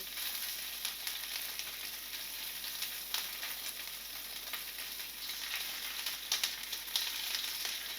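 Chicken pieces browning in hot oil in a pan for Filipino pancit lomi, a steady soft sizzle with crackling pops throughout, heard alone at low volume.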